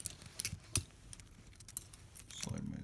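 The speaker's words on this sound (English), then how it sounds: "Slide my zip tie off." A plastic zip tie slides off the pump arm of an Autococker paintball marker, giving small scattered clicks and light plastic scrapes, quiet and close, ending with a brief rustle.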